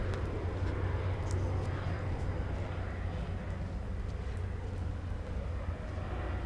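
A low-flying airplane passes overhead at a beach campsite in the woods, a steady heavy rumble filling the whole stretch at constant loudness, with faint higher rustling above it.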